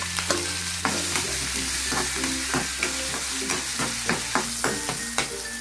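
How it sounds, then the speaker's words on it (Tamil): Ginger garlic paste and onion frying in a pan, a steady close sizzle broken by a regular series of sharp spoon scrapes and stirring clacks against the pan, with no talking. "முதல்ல வந்து இஞ்சி பூண்டு பேஸ்ட்டு போட்டு வெங்காயம் போட்டுக்கிறேன்."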